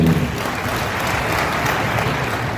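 Audience applause during a speech at the Lavender Festival in Bhaderwah, a steady dense clapping from a crowd, fairly loud and sustained through the whole moment without a voice over it.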